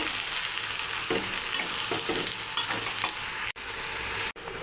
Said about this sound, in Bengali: এই যে দেখুন আমটা অলরেডি ভাজার দিকে, এভাবেই আমি ভেজে নেব